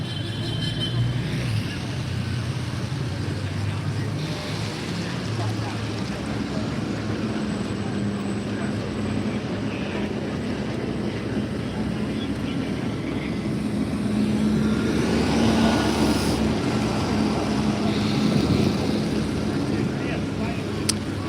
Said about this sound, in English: Some tractors arriving now.